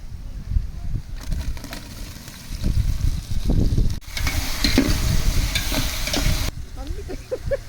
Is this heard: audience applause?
no